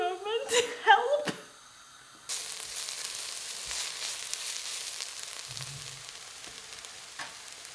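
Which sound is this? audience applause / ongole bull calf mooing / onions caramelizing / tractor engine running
onions caramelizing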